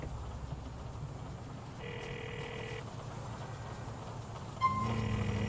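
A phone in the GTA 4 video game ringing through a call, two electronic ring tones over a rumbling engine and train-like background hum, the second ring joined by louder traffic.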